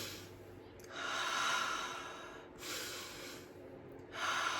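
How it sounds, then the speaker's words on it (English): Slow, deep breaths drawn in through the nose and let out through the mouth, three long audible inhales and exhales at close range with no talking. "When you're stressed, you just want to do some deep breathing."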